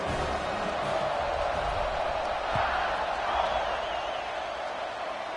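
Football stadium crowd at an LSU game just before kickoff, a broad steady roar of many voices filling the space with no single call standing out.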